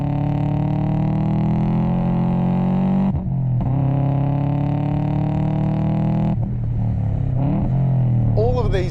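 A 1998 MY99 Subaru Impreza WRX engine revs hard and loud, climbing steadily through the gears with two brief dips at the shifts, heard close up.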